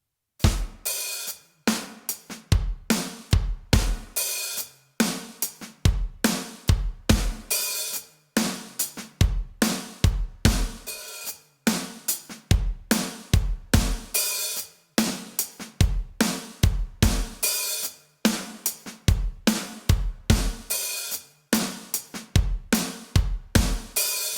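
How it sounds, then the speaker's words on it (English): A steady drum groove of kick, snare and hi-hat repeating in a slow, even pattern, played alone without talk. "When you put all those parts together, hi-hat, snare, and kick drum, it's going to sound like this"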